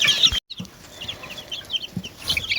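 Chicks peep and chirp in a busy cluster close by, high-pitched calls overlapping in quick bursts with soft clucking, with a brief dropout early on.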